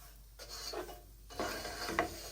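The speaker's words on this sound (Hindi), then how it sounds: "हल्की आंच पे नारियल को भूनेंगे यहाँ तक कि नारियल का कलर थोड़ा सा चेंज हो जाएगा" Sixty grams of dry coconut roasting in ghee over low heat for panjeeri, stirred in a few scraping sweeps of a spoon against the pan with a faint sizzle beneath.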